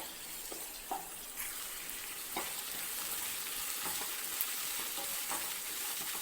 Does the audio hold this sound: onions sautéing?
yes